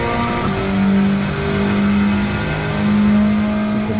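Honda Civic Type R FK2 accelerating hard on a race track, a loud droning engine note that swells and rises in pitch, heard steadily from inside the car.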